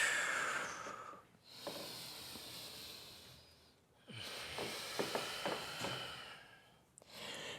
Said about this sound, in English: Find nice long breaths in and out.